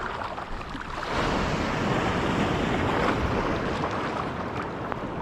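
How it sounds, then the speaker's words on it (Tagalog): Choppy sea waves wash and break over a rocky reef shore in rough water. The roar of surf is steady and broadband, with wind buffeting the microphone throughout and no voices. "medyo maalon pa, medyo malalim din yung part na yan"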